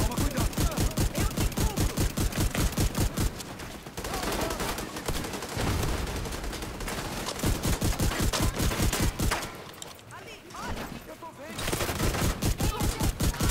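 Repeated Scorpio shotgun blasts and other gunfire in The Division 2, loud, rapid, heavy booming bursts with a short gap of mixed noise midway, then more steady shots.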